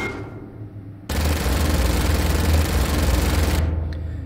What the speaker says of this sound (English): we'll shoot once